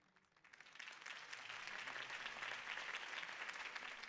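Applause from a crowd in the video game Batman: The Telltale Series swells up quickly and continues steadily, a dense wash of clapping heard alone.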